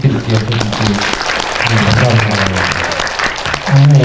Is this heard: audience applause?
yes